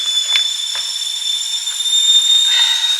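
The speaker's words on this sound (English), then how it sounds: "that's my kettle." A kettle whistles steadily with a thin, high, sustained tone in a quiet kitchen, a few faint clinks and rustles underneath.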